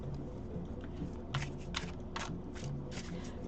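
Tarot cards with printed multilingual borders being shuffled by hand, a series of crisp riffling bursts in an irregular rhythm, close and moderately loud, with no talking.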